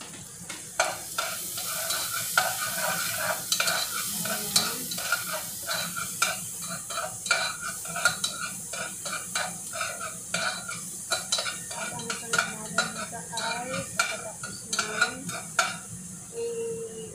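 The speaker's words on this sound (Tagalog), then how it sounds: "Palutuin natin yung pangkatang sibuyas. Ang ingay." Chopped onions sauté in a pan with a steady, close sizzle and frying hiss, broken by repeated scraping stirs and utensil clatter throughout, with no speech.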